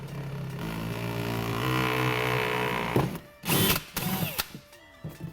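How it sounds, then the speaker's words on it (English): A power drill bores through a thin plastic Jeep Wrangler JL splash guard, whirring steadily with a harmonic motor whine for about three seconds, then stops, followed by sharp clicks and handling clatter. "you can drill the hole for this 5th hole here"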